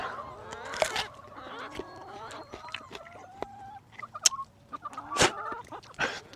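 Meat chickens in a backyard flock cluck and squawk in scattered bursts, fairly faint, with a few sharper calls and faint background noise between them.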